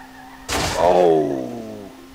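A car crashes hard into a wall in the driving game SLRR. One loud, heavy impact is followed by a ringing, descending metallic rumble that fades over about a second and a half. An engine hum drones underneath.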